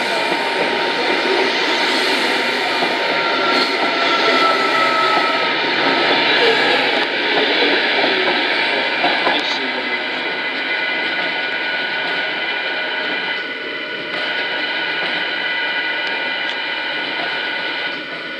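A Greater Anglia class 90 electric locomotive, number 90007, departs from a station platform, a loud sustained whine and rumble with steady tonal hum that eases slightly near the end.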